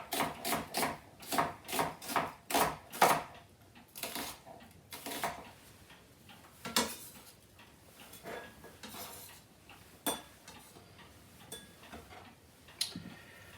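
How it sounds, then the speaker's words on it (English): A knife slicing an onion into fine slivers with the grain on a cutting board: a quick, steady run of crisp chopping taps at first, then sparser, irregular cuts and clicks, close and fairly quiet. "I just sliver the onion up, just making very fine slices with the grain of the onion"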